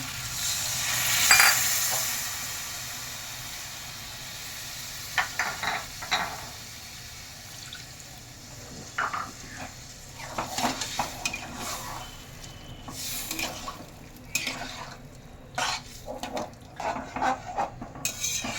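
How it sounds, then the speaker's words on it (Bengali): Mixed vegetables and paneer stirred in a pan after water is poured in, a burst of splashing sizzle followed by repeated spatula scrapes and clatters against the pan, close and alone. "জল দিয়ে আমি ভালো করে একটু নেড়ে দিলাম।"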